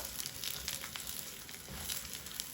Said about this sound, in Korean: 대파를 이렇게 볶아놓고 불을 잠시 꺼놓을게요.